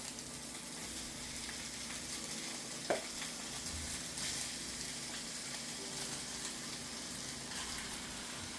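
Hamburger patties sizzle in a frying pan with a steady, close crackle and a faint hum underneath. A single sharp clink comes partway through.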